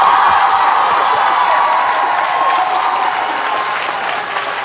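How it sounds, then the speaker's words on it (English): A debate audience bursts into sustained applause to vote for the opposing team, thick continuous clapping with a few faint cheers mixed in, easing slightly toward the end. "clap now!"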